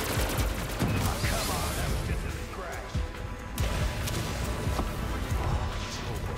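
Rapid gunfire in Call of Duty: Black Ops zombies mode, dense overlapping bursts running steadily throughout with game effects and crashes mixed in, and voices talking over the shooting.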